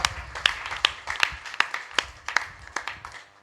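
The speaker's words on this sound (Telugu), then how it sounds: "చప్పట్లు కొట్టి ప్రభువుకి స్తోత్రం." A church congregation clapping together in praise, in a steady, evenly spaced rhythm of about three claps a second, moderately loud in a reverberant room.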